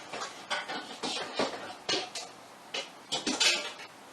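A large metal pasta pot handled in a home kitchen, giving several clanks and knocks of metal cookware in an irregular rhythm, close and moderately loud, with no talking.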